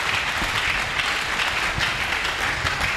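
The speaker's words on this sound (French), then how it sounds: "Nous acclamons encore très fort." A church congregation applauding, a dense, steady wash of clapping from a large crowd in a reverberant hall, with faint voices mixed in.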